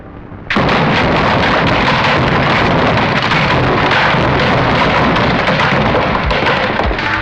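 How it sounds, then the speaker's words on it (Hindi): A bomb detonates in an action crime film: a sudden loud blast after a quiet half-second, followed by a sustained roaring rumble of explosion and debris that fills the rest of the scene. "लेकिन एंथोनी ने वहां पर बम रख दिया।"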